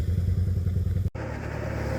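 A Suzuki V-Strom 650 motorcycle engine runs close by, a throbbing, pulsing twin-cylinder rumble that cuts out briefly before resuming at a steady beat.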